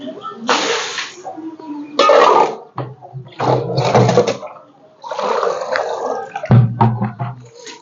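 Freshly caught fish washed on a boat, water splashing and pouring in bursts close by while people talk over it.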